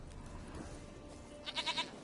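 Several short bleats from a goat in The Witcher 3 come near the end, a quick cluster of four calls rising over a quiet ambient game background.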